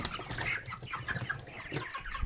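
Cornish Cross meat chickens cluck outdoors on grass, a busy, overlapping chorus of soft clucks and murmurs heard close and at moderate volume, with no voices.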